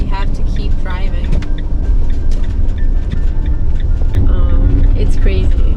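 A van creeps along a Toronto highway through a blizzard at about 30, its engine and road noise a steady loud rumble. A voice talks over it throughout.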